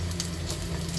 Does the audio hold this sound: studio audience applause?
no